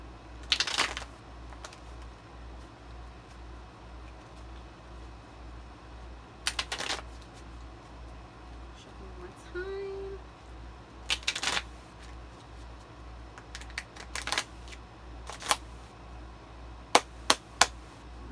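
Tarot cards shuffled by hand: bursts of riffling and snapping card sounds recur every few seconds, close and crisp over a steady low hum, with soft sliding between bursts.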